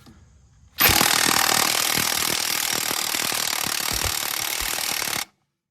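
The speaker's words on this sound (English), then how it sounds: "I don't feel like doing this all night, so I'm gonna put the impact on it." An impact wrench loosening a ball joint bolt on an Isuzu, one loud continuous buzzing hammer burst of about four and a half seconds, close up, starting and stopping abruptly.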